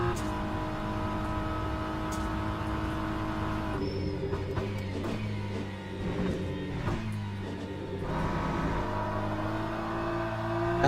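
Engine of a BMW GT3 race car in Le Mans Ultimate practice at Le Mans, a steady droning whine with gear-shift steps and tonal shifts as it runs through high-speed turns, loud and continuous with no talk.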